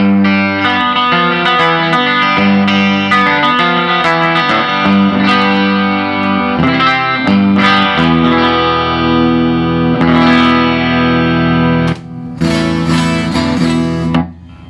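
A distorted electric guitar on a Rickenbacker's bridge pickup plays bright, cutting chords and notes with a trebly bite, loud and continuous, with brief gaps near the end.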